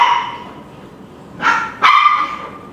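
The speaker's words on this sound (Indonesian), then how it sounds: "Miss Gosip jangan gonggong sayang" A dog gives two sharp barks close by, one about halfway through and another right after, above a quieter whining, yipping tone at the start.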